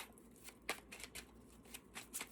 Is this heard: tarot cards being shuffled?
yes